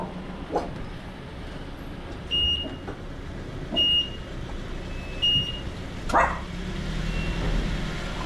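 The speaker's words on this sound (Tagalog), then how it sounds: "Ah, may aso." A dog on a street gives a few scattered distant barks, roughly four short bursts over eight seconds, against a background of passing traffic and faint vehicle beeps.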